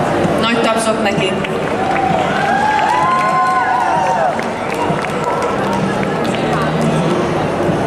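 A crowd at a cosplay awards ceremony during the Animekarácsony & Hungarocomix 2010 convention gives a loud, continuous burst of applause and cheering for a cosplayer, with a shouting voice mixed into the din.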